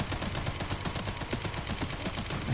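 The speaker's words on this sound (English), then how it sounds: "I don't know how good this SMG is. It seems pretty strong" Rapid SMG fire in Resident Evil Requiem, a dense, continuous rattle of shots that is loud and close, running throughout without talk.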